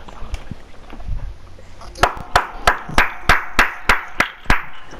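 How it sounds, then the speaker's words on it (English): Hands clap about ten times in a steady, even rhythm, close and loud, during a trash-talking NBA 2K18 one-on-one game, after a few scattered taps and light background noise. "Why are you clapping?"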